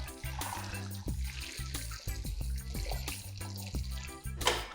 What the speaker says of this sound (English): Add water to the pot.